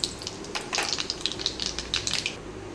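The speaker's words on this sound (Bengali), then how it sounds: "তেলটা গরম হয়ে গেছে, এবার আমি এর মধ্যে দিয়ে দেবো শুকনো লঙ্কা আর কালো জিরে ফোড়ন।" Dry red chillies and black cumin seeds crackle and sizzle in hot oil in a kadai, a dense, close spitting hiss with bright pops over a few seconds.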